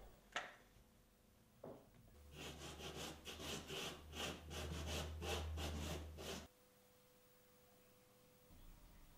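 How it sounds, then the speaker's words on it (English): A wooden spatula rubbing stone particles into the edge of a primed stone surface: about nine quick, rhythmic scraping strokes, faint but close, with quiet before and after. "Such areas are rubbed down with the wooden spatula to reseal them."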